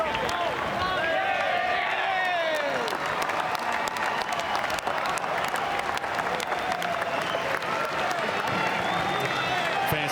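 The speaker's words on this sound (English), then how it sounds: "Big round of applause for the Saints." Stadium crowd at Blundstone Arena in Tasmania applauding the St Kilda Saints after an AFL match against Fremantle, a steady wash of clapping and cheering that fills the whole stretch, with a commentator talking over it.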